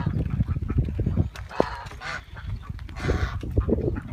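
Geese honk repeatedly nearby, loud nasal calls in irregular bursts over a low rustling background.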